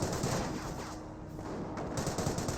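Gunfire in the Company of Heroes strategy game during a vehicle fight, dense continuous rattling of shots and bursts, quite faint and unbroken for the whole short stretch.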